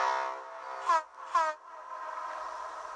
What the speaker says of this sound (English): Tugs all whistled.